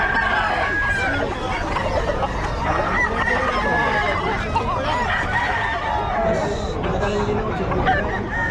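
Chickens cluck and a rooster crows amid the steady babble of a crowded market at Bocaue, with people haggling and talking throughout over the birds' intermittent calls.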